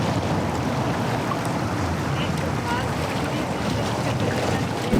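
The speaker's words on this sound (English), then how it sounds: "You can see the action of the waves from the ocean pushing in the tide here." Waves wash against the shore of an estuary in Lisbon, a steady broadband rush of surf with wind noise that holds at a constant level throughout, fairly close and fairly loud.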